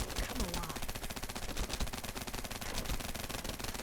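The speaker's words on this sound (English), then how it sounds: "after you hold the weapon down long enough, you can see this insane fire rate" A demonic shotgun in a video game fires at a very fast rate, a fast, even string of sharp shots that holds steady throughout at a faint level.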